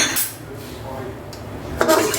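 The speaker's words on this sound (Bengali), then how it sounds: "চালটা দিয়ে আমি মিক্স করে নেব।" Washed, drained rice tipped into a pot of oil and spices for beef tehari and stirred, with clinks and scrapes of utensil against the pot at the start and again near the end, close and moderately loud.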